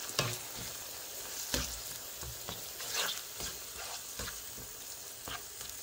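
Red pepper, long pepper and yellow Scotch bonnet mix sizzling and frying in a pan for a spicy sauce, with a steady hiss punctuated by regular stirring scrapes and clanks, fairly quiet and close.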